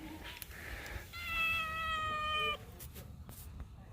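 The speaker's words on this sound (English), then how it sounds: "There's always cats." A cat gives one clear, drawn-out meow at a riverside spot on the Mekong at sunrise in northern Thailand. The meow stands out close and alone over faint outdoor background noise.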